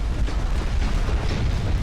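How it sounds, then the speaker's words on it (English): Naval gunfire in the warship video game Ultimate Admiral: Dreadnoughts, a dense, loud barrage of overlapping booms and rumbling blasts merging into a continuous roar with no clear gaps. "There's so much gunfire"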